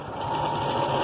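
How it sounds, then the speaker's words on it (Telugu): Sewing machine stitching a six-year-old child's blouse with a thick stitch, running in a steady, close, continuous whir throughout the short burst. "మందం కుట్టు పెట్టుకొని ఇలా నీట్గా ఇలా కుట్టుకోండి"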